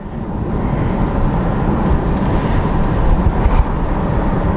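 A Jaguar XF V8 gives off a continuous deep engine roar as it pulls and accelerates, steady and fairly loud with no talking.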